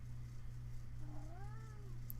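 A cat lets out a single drawn-out meow with a rising and falling pitch, soft and moderately close, over a steady low electrical hum, with no talking.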